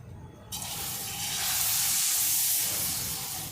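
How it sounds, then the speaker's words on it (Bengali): Semolina pitha frying in hot oil, a loud steady hiss that jumps up suddenly as the dough goes in and keeps sizzling close by, no voices. "এক এক করে সব পিঠেগুলো এইভাবে ভেজে নেব"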